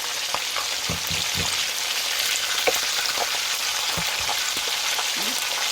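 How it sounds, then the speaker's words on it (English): Fish frying in a pot of hot oil during Jamaican-style escovitch cooking, a steady close crackling sizzle with scattered soft clacks and bumps as pieces are turned; no talking. "now we're going to go ahead and we're going to flip this one"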